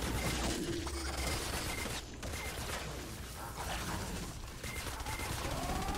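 Mercury LMG from Fortnite Save the World firing in a sustained rapid stream, a harsh continuous laser-like rattle at moderate level, with tonal whines layered over the gunfire.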